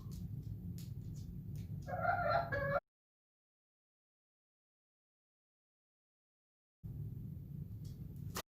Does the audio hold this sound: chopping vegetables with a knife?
no